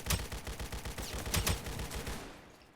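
Rapid bursts of video-game gunfire in Aimblox, loud and close, with dense overlapping shots rattling in quick succession before tapering off at the end.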